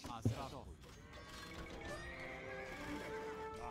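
Horse whinnying and hooves clip-clopping in the Age of Empires 2 video game, a short close neigh near the start followed by a sustained sound effect bed, with someone speaking over it.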